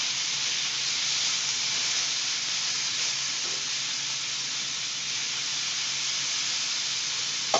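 Steak sizzling on a grill, a steady bright hiss of searing that holds evenly throughout, close and continuous without talk.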